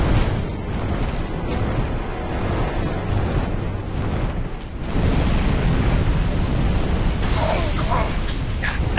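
A drake breathes fire in Dark Souls 2, a loud, continuous rumbling roar of flame with mechanical creaks and bursts that swells and surges again partway through.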